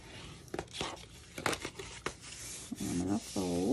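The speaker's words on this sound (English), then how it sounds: "I'm gonna go ahead and I'm gonna fold on my boxes, on my score lines for my box." Cardstock box for pretzel treats folded by hand along its score lines at a craft table, giving several crisp crinkling creases and papery rustles, with a voice coming in near the end.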